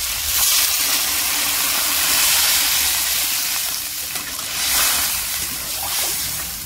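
Water hits frying spices in a pan for koi fish curry with vegetables, producing a loud, broad, steady hiss and sizzle that swells and eases over several seconds, close by and alone.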